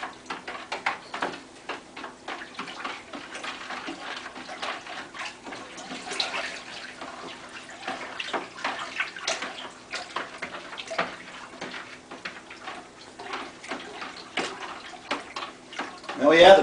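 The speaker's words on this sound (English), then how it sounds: "Just got to make sure to stir it till all the sugar is dissolved." Sugar is stirred into water in a bucket for a moonshine mash, making a faint, steady scraping and sloshing rhythm that carries on close and quiet for many seconds.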